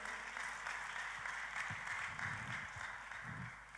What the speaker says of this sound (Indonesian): Kita kasih tepuk tangan saudaraku.